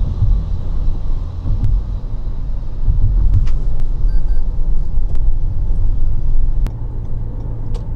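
Steady wind and road noise inside a 2019 Toyota RAV4 Hybrid cruising on the highway, a constant low rumble with airy hiss that swells slightly midway, with no talking.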